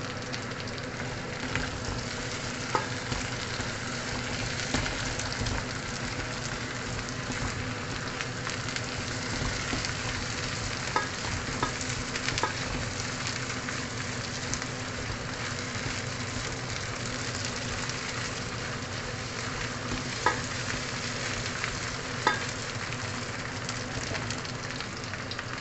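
Curry leaves fry in hot oil in a pan for a chicken curry, giving a steady, dense, crackling sizzle with scattered pops that stays constant and fairly close.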